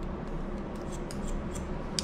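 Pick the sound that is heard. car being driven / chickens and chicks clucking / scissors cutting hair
scissors cutting hair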